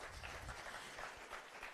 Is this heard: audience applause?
yes